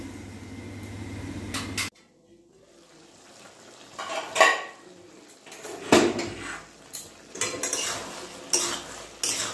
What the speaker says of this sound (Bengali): আমি ঢাকা খুলে আরেকবার নেড়েছিলাম